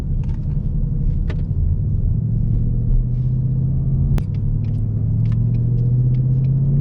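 A deep, steady V8 rumble from inside a 2018 Ford Mustang GT cruising at about 2,500 RPM, smooth and constant with a few faint clicks and bumps over it.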